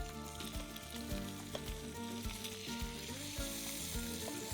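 Rockfish fillets frying in a hot pan with lime juice, a loud, steady, close sizzle with crackling spatters and faint metallic stirring, no talk.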